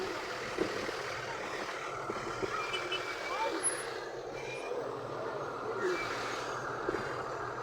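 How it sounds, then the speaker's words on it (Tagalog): Road traffic in Saudi Arabia, with a dense, steady roar of engines and a truck reversing, voices talking over it throughout. "Tingnan nyo, traffic dito."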